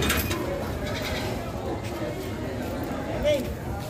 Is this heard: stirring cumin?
no